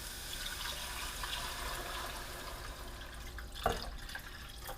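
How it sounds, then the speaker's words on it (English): Broth pours into a soup pot of wedding soup with softened ingredients in it. A quiet, steady liquid trickle and splash runs throughout, and a brief sharper clink comes near the end. "So now I'm going to go ahead and I'm going to add my stock"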